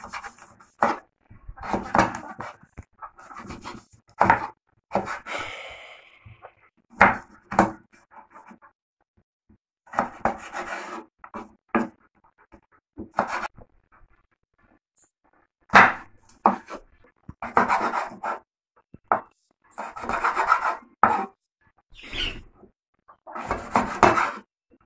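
A knife cuts carrots into julienne strips on a board while a Jamaican pickle sauce is being made, giving clusters of close, crisp chopping taps broken by short pauses.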